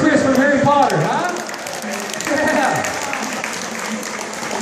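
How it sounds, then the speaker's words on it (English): Audience at a comic con storage-hunters auction applauding a guest, clapping mixed with a host's loud voice and crowd noise, fairly close and sustained. "Applause for Chris from Harry Potter"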